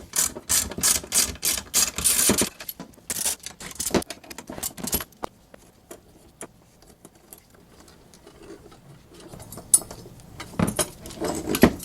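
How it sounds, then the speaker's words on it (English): A ratchet wrench removes the chainring bolts on a Diamondback Axis 27.5 mountain bike, giving bursts of rapid clicking that stop and start with pauses, near and fairly quiet. "we're going to go ahead and remove these chain rings"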